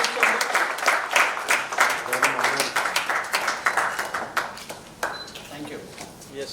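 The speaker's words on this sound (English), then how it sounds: "Huge round of applause, please." Audience applause at a construction-industry partnership signing at bauma CONEXPO India, a steady wash of many hands clapping that swells and fades over several seconds with no speech over it.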